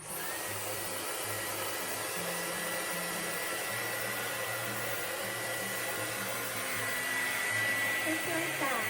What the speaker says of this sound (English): And then we Dyson.